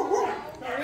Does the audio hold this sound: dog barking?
yes